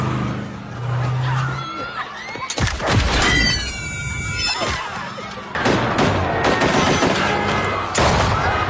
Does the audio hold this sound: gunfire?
yes